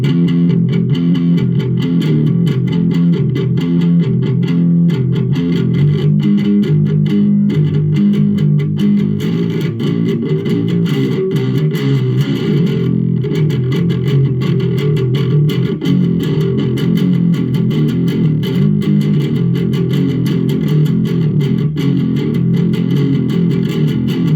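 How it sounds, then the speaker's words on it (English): A baritone guitar plays low notes palm muted through distortion, a thick, chugging, sustained growl that stays loud and dense throughout, with no talk. "if you palm mute and throw in the distortion, it's sort of, the low note sort of sounds like"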